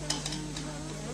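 Two beaten eggs stir-fried in a pan and broken up with a spatula: a steady soft sizzle with a few light scraping strokes, close and continuous, with no voices.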